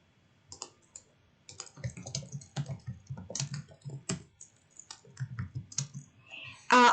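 Rapid clicking of computer keyboard typing, moderately close, with irregular bursts of keystrokes and short pauses, during an online group voice chat.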